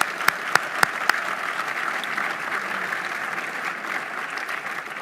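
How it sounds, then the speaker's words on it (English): Audience at a speaking event applauding the sponsors, a few sharp close claps at first and then a sustained, even round of clapping from a crowd. "please join me in extending another round of applause and thanks to our sponsors today"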